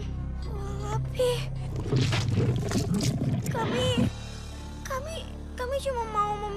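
A fire bear in a video game roars loudly and raggedly for a couple of seconds amid excited speech from children, who keep talking after the roar fades.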